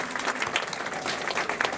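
An audience at a magic club show applauds in a brief, dense burst of many hands clapping, steady and lively for the whole moment.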